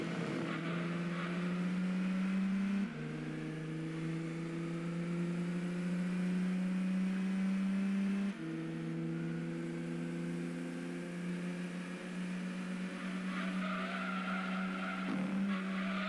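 Peugeot 206 race car driven in Gran Turismo 2: a steady, buzzing engine drone that steps up and down with several gear changes, joined by brief tire squeal, close and loud with no talking.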